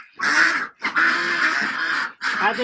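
Loud, close quacking from ducks in three bursts of harsh, raspy calls separated by brief pauses.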